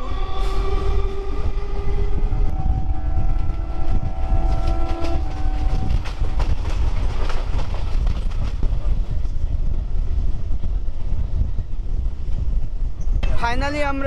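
A passenger train rumbles along rails past Jadavpur station in Kolkata, with a loud continuous roar and clatter heard from on board, a whining tone fading early and a brief squeal near the end.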